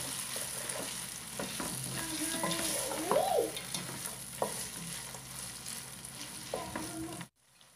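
Green peas fry in a pan for pulao, giving a continuous close sizzle with occasional scraping from stirring. The sound runs steadily until it cuts off abruptly at the end.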